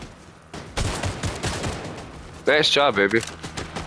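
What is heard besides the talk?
gunshots from a video game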